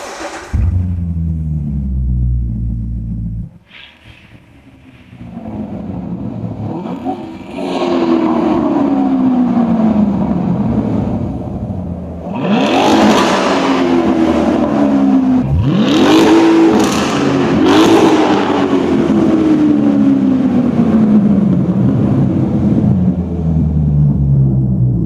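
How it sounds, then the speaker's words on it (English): A Corvette C7 engine cranks and fires into a deep rumbling idle, then revs hard several times, each rev rising and falling back, loud and close. "All right, let's start the car."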